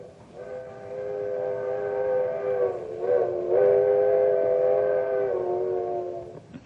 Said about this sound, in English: It's a locomotive whistle, the old-fashioned kind that was part of a coal-burning steam engine.